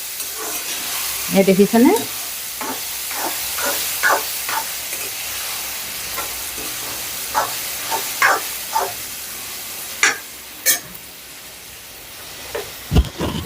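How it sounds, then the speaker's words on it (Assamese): Grated mango for a sweet pickle is stirred in a hot pan with a few cloves, giving repeated scraping strokes over a soft steady sizzle, close and clear, with a brief voice speaking early on. "আমখিনি ইয়াতে দি দিলোঁ আৰু এতিয়া মই এইখিনি ভালদৰে লৰাই দিম"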